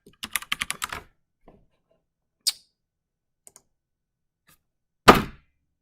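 Quick cluster of keystrokes on a computer keyboard, then scattered single taps and one sharper thunk near the end, close and clear with no talking.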